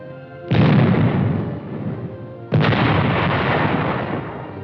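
The 90-millimeter gun of an M47 medium tank firing, two loud booming blasts about two seconds apart, each rolling away in a long rumbling decay.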